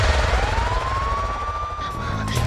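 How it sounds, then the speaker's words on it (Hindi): A police siren wails with a long rising and falling tone, steady and fairly loud over a rumbling low background, as though a patrol vehicle is approaching nearby. "ये पुलिस का सायरन?"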